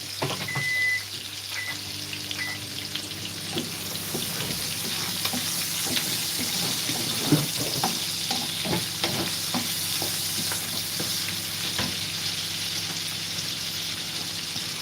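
Tomatoes fry in a pan with steady, close sizzling and repeated scraping strokes of a spoon stirring them, with a brief running-tap splash near the start.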